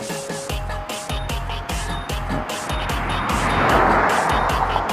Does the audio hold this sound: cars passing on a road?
yes